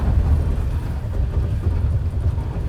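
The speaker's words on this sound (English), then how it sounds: "So that noise is the ABS." A Toyota Tacoma's ABS works during off-road crawl control, giving a low continuous rumbling, grinding drone from the vehicle with a slight pulsing texture, steady and fairly loud throughout.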